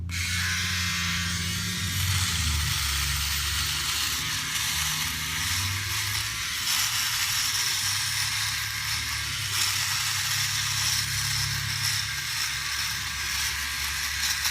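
A steady OneBlade electric razor buzz runs continuously throughout as it shaves a beard, with a low motor hum and a faint rasp as it cuts through hair. No talking.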